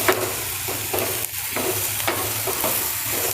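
Onions cook in oil in a pan, a constant bright sizzle with soft periodic scraping as they are stirred now and then, close and steady without any talk.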